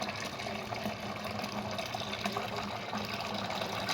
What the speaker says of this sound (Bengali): এই তো আমি দুধটা অনেক উপর থেকে ডালছি যাতে একটু ফেনা ফেনা হয়